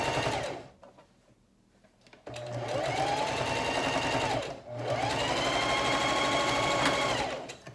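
A sewing machine stitches back over the corners of a makeup bag to reinforce them, whirring steadily in two long runs split by a brief pause, close and clear with no talking.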